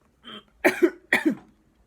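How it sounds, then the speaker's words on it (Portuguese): Two sharp coughs close together, preceded by a short throat-clearing sound, fairly loud and close, with silence around them. "desculpem a tosse"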